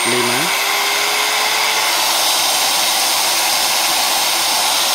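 A DeWalt angle grinder runs at its top speed setting of 6, producing a loud, steady, high-pitched whirring roar with a brief tone shift at the start as the speed settles.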